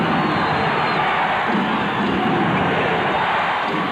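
A roaring arena crowd cheers during a 1996 NBA game, Houston Rockets at San Antonio Spurs in San Antonio, a loud, sustained wash of voices rising behind the play.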